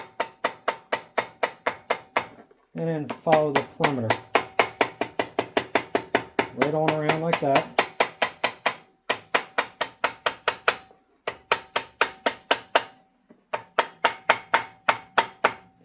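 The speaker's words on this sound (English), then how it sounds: "take a hammer, and just tap it around real easy" A hammer taps lightly and steadily around a gasket to pre-punch its outline while installing an exhaust manifold on a 1958 Farmall 450 tractor. The close, rhythmic strikes continue under a man's speech and pause briefly in between.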